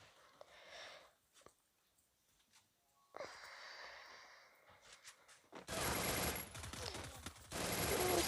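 Video-game gunfire from a Thompson submachine gun, heard as loud dense bursts of rapid shots in the last seconds, preceded by quieter scattered game sounds.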